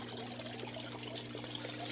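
Water trickles steadily in a waterfall aquarium tank in a fish room, a continuous close splashing wash with a low electrical hum beneath it.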